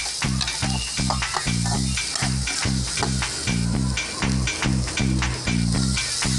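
Carrot, capsicum, beans and green chilli fry in a pan with a loud, continuous sizzle, broken by repeated rhythmic stirring scrapes close by.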